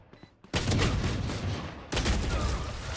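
Gunfire from a tactical shooter video game comes in two loud, dense bursts of rapid shots, following a quiet opening with a few faint sounds.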